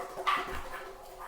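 A dog gives a single short, soft bark or yip, fairly close, over a low steady background hum.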